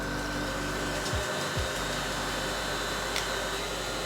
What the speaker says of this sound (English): Hair dryer real quickly.